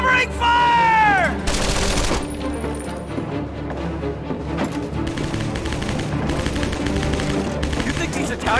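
Gunfire in the Medal of Honor: Vanguard video game, rapid machine-gun and rifle shots crackling through a dense battle, with a shouted line early on.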